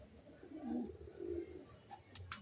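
Giribaz pigeons, a Teddy cross, coo softly nearby in two low, throaty rolling phrases, with faint light chirps and rustles toward the end.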